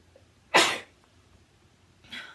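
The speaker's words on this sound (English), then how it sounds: "I think I need to sneeze." A single sharp sneeze bursts out close to the microphone, followed by a quiet pause and a softer breathy exhale or sniff.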